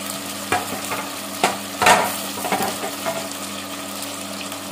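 Vegetables such as bottle gourd, eggplant and okra, with coriander, fenugreek and curry leaves, fry for ragi upma in a pan: a soft, close sizzle runs under irregular scraping strokes of a spoon stirring, with no one talking.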